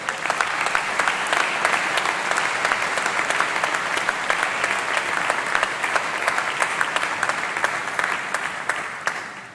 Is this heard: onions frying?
no